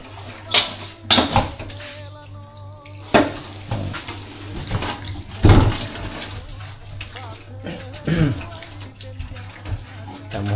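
Running tap water splashes as ingredients are washed while papaya salad is made, a steady flow broken by clatters of dishes and handling, with people talking over it.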